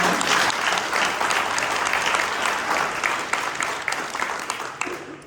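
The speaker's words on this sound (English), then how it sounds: "Let's give some applause." A residents' association crowd at an all-candidates mayoral meeting claps in a dense, sustained burst that holds steady for several seconds before tapering off at the end.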